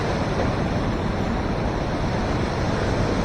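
Rushing water pours at a waterfall swimming spot, a dense, steady roar that fills the whole stretch, close and loud with no voices.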